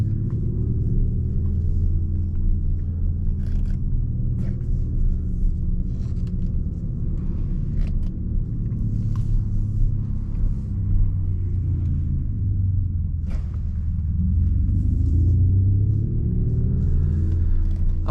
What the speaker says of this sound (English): You have the active sport sound, which is pretty darn cool.